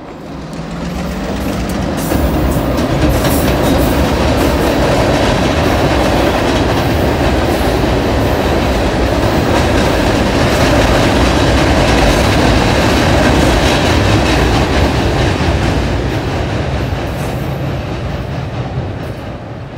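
A loaded rock train on a short line railroad rolls steadily across a trestle over an abandoned road, its continuous rumble and clickety-clack of wheels loud and close throughout, with no talking.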